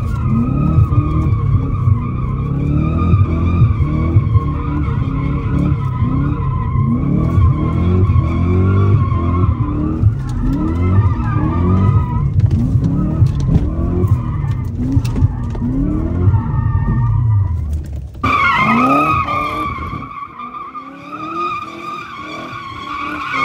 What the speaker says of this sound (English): when I start sliding the M5